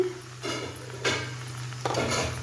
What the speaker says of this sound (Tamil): இப்போ இதை நல்லா பெரட்டி ஒரு கிண்டு கிண்டி விட்டுருந்தீங்க